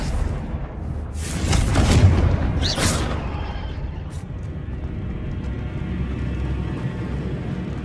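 A Confringo fire spell blast in the Hogwarts Legacy video game: a deep booming explosion that swells and rolls over about a second, followed by a sharp crack and a lingering low rumble.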